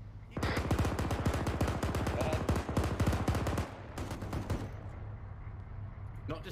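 Rapid automatic gunfire in a tactical military game, a dense burst of closely spaced shots for about three seconds, then a few scattered shots before it fades to ambient noise with a faint trailing click.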